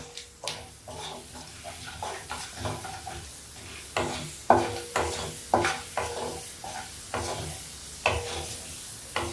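Mustard seeds and lentils (urad dal and chana dal) frying in hot oil, a steady sizzle broken by repeated stirring scrapes and popping crackles at a regular pace, close and fairly loud.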